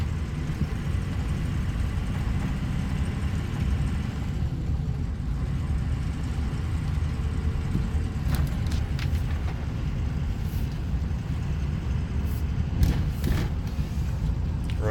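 A 2003 Ford truck with a 6.0 Powerstroke diesel engine, recorded from inside the cab while driving, gives a constant, even engine drone and road rumble, with a few faint knocks and clicks.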